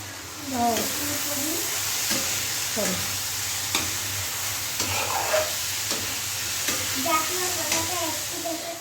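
Fish sizzles steadily in a hot pan, a constant close frying hiss with occasional stirring, while voices murmur intermittently in the background.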